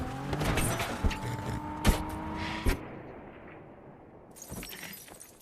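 A car is driven in reverse into an enemy base in the 2012 film Jack Reacher: a steady engine drone is broken by three sharp, loud crashing impacts, then fades to a quieter hissing tail and a final clatter.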